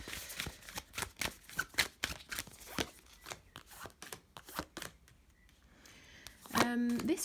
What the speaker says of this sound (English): so let's shuffle these up and then pull through piles.